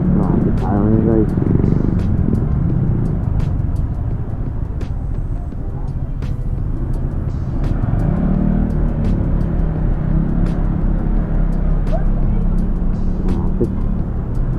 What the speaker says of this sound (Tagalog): Traffic tayo ngayon guys.